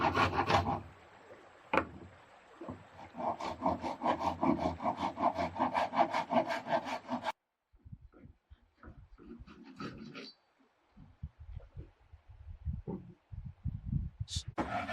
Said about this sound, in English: The builder crosscuts siding planks directly on the new deck, turning his finished floor into an elevated workbench.